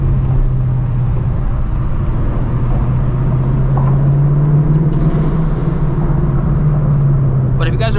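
A 2024 Ford Mustang GT cruises with a loud, steady engine drone and road rumble inside the cabin, while someone talks over it throughout.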